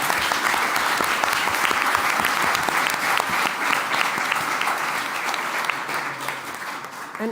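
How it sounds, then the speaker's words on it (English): An audience at a climate-policy side event applauds steadily for the members of the Article 6.4 Supervisory Body, a dense, sustained clapping from a full room that carries on for the whole stretch. "I think we should do a round of applause for the dedicated and opinionated members of the board."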